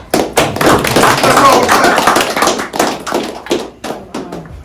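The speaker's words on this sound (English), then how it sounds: "Let's give a clap" An audience at a podcast press event claps for the speaker, with loud, close, uneven hand claps going steadily for several seconds, tapering slightly toward the end with a few distinct individual claps.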